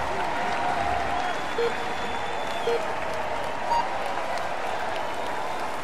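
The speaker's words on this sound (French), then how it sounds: "Allez, on l'applaudit bien fort." Spectators applaud steadily for a cyclist on a time trial start ramp at a professional stage race prologue, a dense continuous clapping wash with faint crowd murmur and a few brief tones over it.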